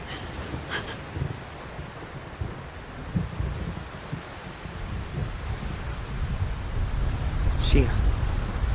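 Thunder in the Xenosaga Episode 1 video game rumbles as a low, continuous roll under wind-like noise, with a few sharper cracks and a brief high sweep, building slightly louder toward the end.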